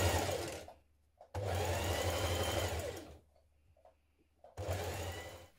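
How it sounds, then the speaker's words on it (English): A sewing machine runs a narrow zigzag stitch along a dress hem in three sustained, close whirring bursts separated by quiet pauses with faint handling clicks. "Now hem the bottom of your dress. Again, I'm using a narrow zigzag stitch."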